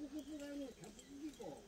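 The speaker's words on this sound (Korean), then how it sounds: "지금 구구구구 하는 게 저게 비둘기 소리랍니다" A pigeon coos in soft, repeated low warbling notes, faint and distant, at a mountain bark-roofed house on a rainy day.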